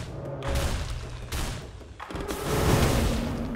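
Sniper gunfire in the Risk of Rain video game comes as a few heavy, booming shots with rumbling tails, close and fairly loud.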